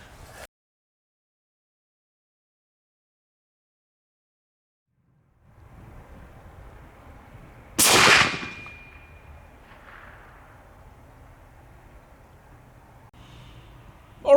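A single sharp, loud report from a .50 cal BMG rifle fired at targets 100 metres downrange, standing out from quiet outdoor background with a brief ringing tail.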